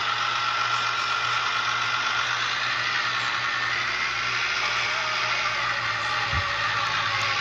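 Car engine drifting in the video game Drift XL, a steady, loud synthetic engine drone that holds evenly throughout with a brief low thump near the end.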